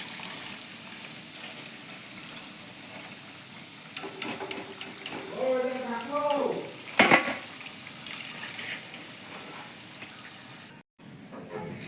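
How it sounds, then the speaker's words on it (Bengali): Food fries in hot oil with a steady hiss under kitchen noise, broken midway by pan scrapes, a metallic clatter and a brief squeak before the sizzle resumes. "এগুলো ভেজে নেব, একে একে দিয়ে সবগুলো ভেজে নেব।"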